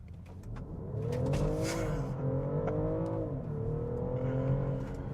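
2025 BMW X5 xDrive50e plug-in hybrid accelerating hard in sport mode, its engine note rising steadily through the revs with a brief dip at a gear change, heard from inside the cabin.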